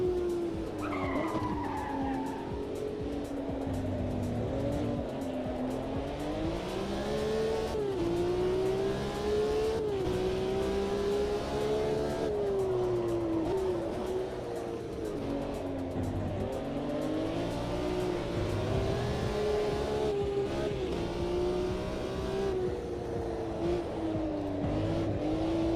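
A race car in a sim racing game warms its tyres with steady engine drone, weaving revs and continuous tyre squeal and skidding, loud and unbroken throughout with no talk.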